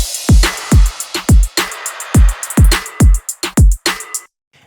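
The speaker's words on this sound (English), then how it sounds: "We're doing a slightly more busy kick pattern" A K-pop style chorus beat plays alone: a busy pattern of punchy, booming kick drums with snaps and crisp hi-hats repeating in a quick, syncopated rhythm, loud and close, ending abruptly.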